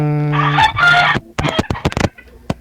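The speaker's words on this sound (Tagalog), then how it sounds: "manok yung naririnig ko" A rooster crows loudly and close by, one long drawn-out call followed by a few short clucking notes.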